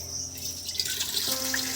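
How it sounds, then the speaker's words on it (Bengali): Plain tap water pours into a cooking pot for chowmein, a steady close trickle and splash that lasts throughout with no talking. "এর মধ্যে দিয়ে দেবো বন্ধুরা একদম নর্মাল জল"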